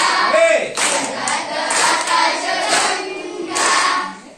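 An audience claps along to a devotional song about the heavenly Milky Way, with loud, fairly steady rhythmic hand claps that fill the space, close and continuous, and a faint hint of voices beneath.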